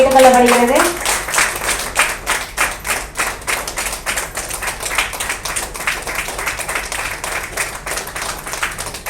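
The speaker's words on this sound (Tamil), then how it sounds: "கைத்தட்டுக்களை கொடுக்குமாறு அன்புடன்" An audience at a book launch ceremony bursts into steady, sustained applause, with dense rhythmic hand clapping that continues for several seconds; a voice is briefly heard at the very start.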